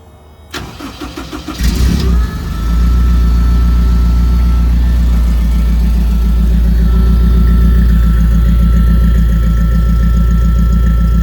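F20C-engined Lotus Seven-style track car starting from cold: a short cranking burst, then the engine catches and settles into a loud, steady, throbbing idle that runs close by without pause.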